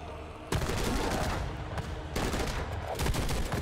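Sustained in-game gunfire from Madness: Project Nexus, a dense loud barrage of overlapping shots running almost the whole time with a couple of brief lulls.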